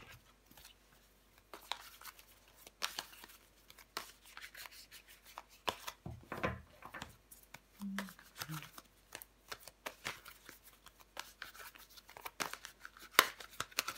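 Tarot cards handled and laid out on a table during a love reading, soft papery shuffles, slides and taps scattered through the stretch, fairly close but quiet, with a few faint murmurs of speech in between.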